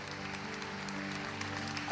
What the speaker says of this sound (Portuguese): Vamos aplaudir o sacerdote.